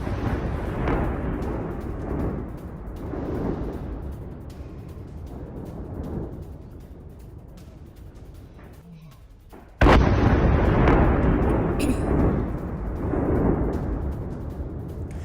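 IDF airstrike explosions hitting a Hezbollah missile tunnel, heavy booming blasts rolling over a constant low rumble, with one sudden loud hit near the end.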